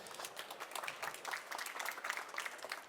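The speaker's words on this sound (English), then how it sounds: "Big applause for Tom Dworak from Crossroad Media." A conference audience applauds as a panelist is welcomed, with dense, steady clapping from a mid-sized crowd that lasts about three seconds and has no speech over it.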